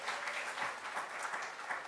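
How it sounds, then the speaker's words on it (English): Applause from an audience at a 23rd anniversary event for the Americans with Disabilities Act forms a steady, moderately faint patter of many hands clapping throughout. "Give yourselves a round of applause."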